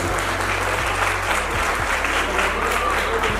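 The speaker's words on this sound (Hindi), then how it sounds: "जोर से ताली बजाएं, परमेश्वर की स्तुति करें" Wedding guests at a Christian wedding ceremony break into applause, a dense steady wash of clapping from a crowd heard throughout, fairly close and even in loudness.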